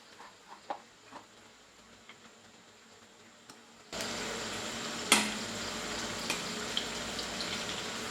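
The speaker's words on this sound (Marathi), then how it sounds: "आता आपण ह्याच्यात आपले चिकनचे पीसेस फ्राय करून घेणार आहोत।" Chicken popcorn pieces drop into hot oil in a wok over a medium-high gas flame, a sudden steady sizzle that starts partway through after a few quiet clinks and stays loud and close, with a sharp crackle burst just after it begins.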